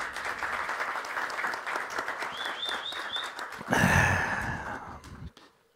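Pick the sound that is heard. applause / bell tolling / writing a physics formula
applause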